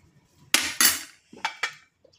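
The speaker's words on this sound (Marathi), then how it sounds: "आता मी कुकरला झाकण लावून घेते" A metal lid is set onto a pressure cooker, making four sharp metallic clanks and clatters in two quick pairs, close by and with no talking.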